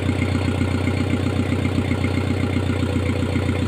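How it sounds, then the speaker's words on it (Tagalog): A newly rebuilt engine runs steadily after starting, a dense mechanical rumble with a fast, even idle pulse holding at constant loudness throughout, close by and with no voices over it. "umandar na po makina na kinuha namin, kiniliver namin dito"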